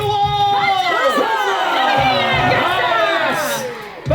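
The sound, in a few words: jousting show crowd cheering for House of York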